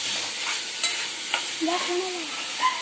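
Tomato stir-fried in a pan for an okra (bhindi) sabzi, a continuous sizzle with spatula scrapes and small knocks, close and moderately loud with no talking.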